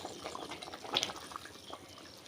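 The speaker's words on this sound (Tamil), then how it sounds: "பாருங்க குழம்பு நல்லா கொதிச்சுக்கிட்டு இருக்குது" Raw mango curry (vadu mangai kuzhambu) bubbles and simmers in an open pot, with soft irregular pops and gurgles at a low, steady level.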